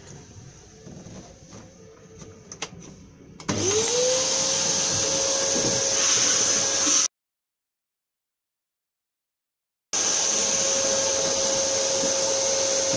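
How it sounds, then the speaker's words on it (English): A vacuum cleaner hoovers up scraped debris while a boat is being refurbished, starting up with a rising whine and then running loud and steady, briefly cutting out before resuming. "Hoovering."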